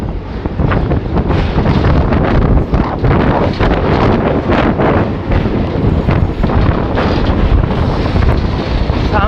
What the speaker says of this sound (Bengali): সামনে থেকে প্রচণ্ড জোর হাওয়া আসছে